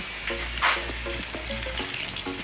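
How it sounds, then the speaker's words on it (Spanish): Zapallo (squash) empanadas fry in a pan of oil with a loud, close, continuous sizzle, broken by a few scraping and bubbling bursts, and no voices. "ahorita ya vamos a freír las empanaditas"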